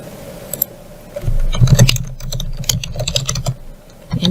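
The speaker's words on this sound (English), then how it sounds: "We type in our name" Typing on a computer keyboard while entering text into a Turabian-style document, with quick irregular clicks and bursts of keystrokes close by, growing busier midway and running on steadily to the end.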